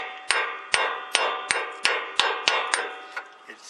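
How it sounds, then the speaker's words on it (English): Hammer blows drive a grease seal into an axle hub until it bottoms out, about nine sharp, evenly spaced metallic strikes, close and loud, with the last few softer. "It's bottomed out in there."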